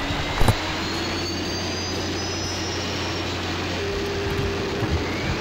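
Spacecraft auxiliary power unit running in the Orbiter 2010 space flight simulator, a loud, steady jet-like turbine roar and whine that holds constant throughout, with a couple of faint clicks near the start.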